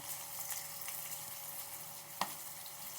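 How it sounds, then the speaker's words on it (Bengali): Chopped onions, cut fairly large, frying in very hot oil, a steady close sizzle with a sharp utensil clink midway, no voices. "তেলটা বেশ গরম হয়ে গেছে। এখন দিয়ে দিচ্ছি পেঁয়াজ।"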